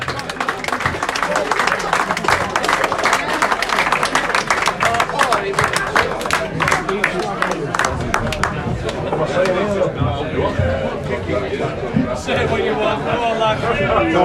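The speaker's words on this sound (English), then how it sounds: "Big round of applause for Steve," A rugby club crowd at a post-match gathering gives a coach a loud, sustained round of applause, with dense clapping and chatter that thin out toward the end as the room settles.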